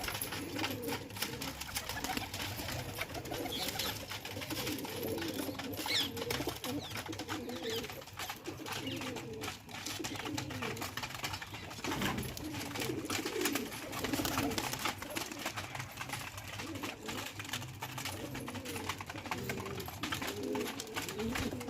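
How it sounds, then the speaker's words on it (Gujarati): Steady low cooing from a flock of pigeons, continuous and overlapping throughout, with general outdoor background noise. "અને આ બધા કબૂતર ખાવા પીવા માંડ્યા અહીંયા"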